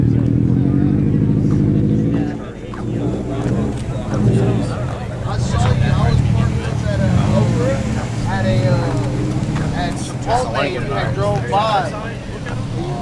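Cars roll into a morning Cars and Coffee meet in Austin, with steady engine rumble and passing vehicles under busy crowd chatter and nearby voices.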